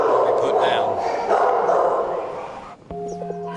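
Dogs bark in a crowded animal shelter, a dense, loud wash of overlapping barks and yips echoing together, then a brief electronic beep near the end.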